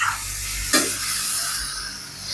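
Bottle gourd being stirred in a hot pan with soy and oyster sauce, a steady close sizzle and hiss with a brief scraping stir partway through, no voices.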